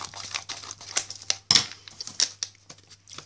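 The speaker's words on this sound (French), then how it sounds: "je vais utiliser ma paire de ciseaux" Scissors snip and crinkle through plastic food packaging from a Christmas surprise boot, a run of close, sharp crackling cuts and rustles with short pauses, with no talking.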